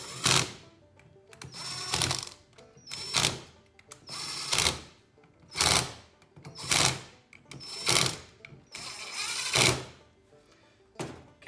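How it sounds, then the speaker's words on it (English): An impact wrench snugs down the valve body bolts on a 46RE/47RE automatic transmission. Eight separate short rattling bursts come about one to one and a half seconds apart, close and loud, with brief quiet between them. "I like to take the impact here and just barely go snug"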